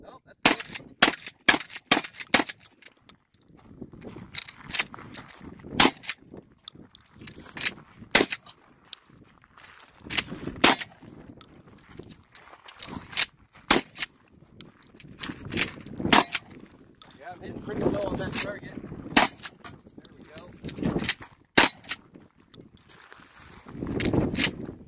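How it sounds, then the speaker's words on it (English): Shotgun blasts of birdshot fired at a close steel target outdoors, loud sharp reports spaced irregularly across the clip, with quieter handling and movement noise between shots. "I'm gonna start off with birdshot and then go to buck and slug. You got a steel target here"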